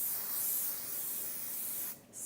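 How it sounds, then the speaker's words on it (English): A can of CHI Ultimate Control hairspray hisses out one long continuous spray close by, then cuts off before a brief final burst. "So I'm going to go in and just do a quick"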